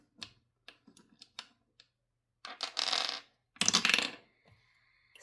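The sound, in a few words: rolling 20-sided dice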